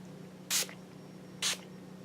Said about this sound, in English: set it with my Wet n Wild Photo Focus Setting Spray